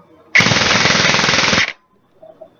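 A Krytac LVOA airsoft rifle fires a single full-auto burst of about 20 rounds per second, a loud, close, rapid buzzing rattle lasting over a second before stopping abruptly.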